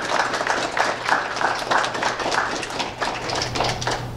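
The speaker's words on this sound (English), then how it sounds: "So let's give us all a round of applause." Applause at a French Honor Society induction ceremony at a high school, a steady wash of clapping from an audience lasting several seconds with faint voices underneath.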